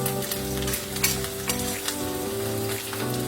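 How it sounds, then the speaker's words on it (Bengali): Onions sizzle in a pan, browning for a katla fish kalia, a continuous crackling fry with steady intensity and occasional sharper pops, close and alone with no talking. "পেঁয়াজটা একটু লাল করে ভাজতে হবে"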